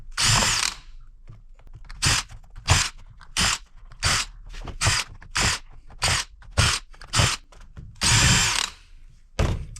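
A power screwdriver backs screws out of an old computer keyboard in about a dozen short, close whirring bursts, separated by brief pauses and faint handling clicks.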